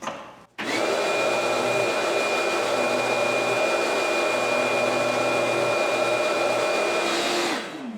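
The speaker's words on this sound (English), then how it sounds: "So that thickness sander makes short work of it" A thickness sander starts abruptly and runs as a loud, steady motor whine and rushing hum while flattening a guitar fretboard, holding constant for several seconds before spinning down, with no speech.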